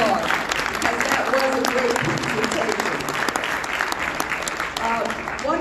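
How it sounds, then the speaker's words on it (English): Audience applause at a 2021 State of the City address in Atlantic City, a dense, steady round of clapping from a crowd that continues loudly throughout, with some voices mixed in. "let's give Mayor Small a wonderful round of applause"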